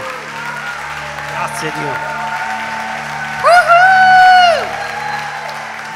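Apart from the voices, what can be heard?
church audience applauding the preacher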